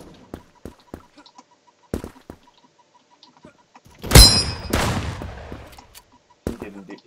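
Gunfire in a first-person shooter video game: a sharp loud burst of shots around the middle with a decaying tail, and a few sparse quieter cracks before and after.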